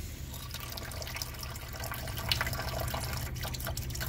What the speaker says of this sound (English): Very low water pressure on the hot side.